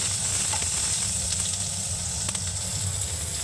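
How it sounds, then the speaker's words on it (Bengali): Onions and garlic frying in oil until browned, a dense continuous sizzle with faint scattered pops, heard alone over a low steady hum. "পেঁয়াজ বন্ধুরা দেখুন এবারে লাল করে ভেজে নিচ্ছি"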